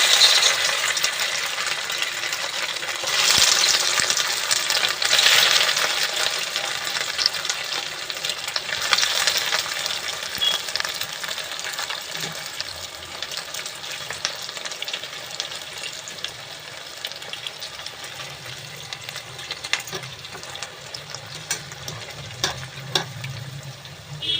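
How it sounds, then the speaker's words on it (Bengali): Snacks frying in hot oil over a high flame give a steady broadband sizzle that runs throughout, with occasional stirring and clinks, close and fairly loud, no one talking. "সবগুলো বানানো হয়ে গেছে, দেখুন এগুলো এবার ভাজবো। একটা একটা ছেড়ে দিচ্ছি"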